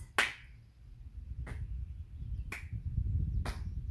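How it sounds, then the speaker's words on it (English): Four crisp hand claps at a steady pace of about one per second, close and distinct, over a soft low rumble with no talking. "Let's do 2 more claps."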